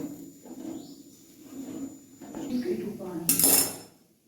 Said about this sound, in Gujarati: તેને વેલણની મદદથી આપણે મિક્સ કરી લઈશું એકદમ સરસ મિક્સ થઈ જાય ત્યાં સુધી હલાવીશું